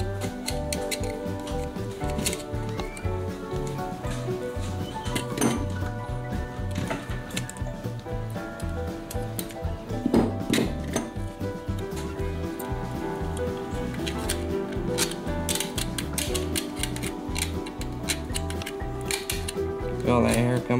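Scissors snip trapped hair out of an Andis Pulse ZR hair clipper being repaired, a steady run of close, light metallic clicks and snips continuing for about twenty seconds with no talk over it.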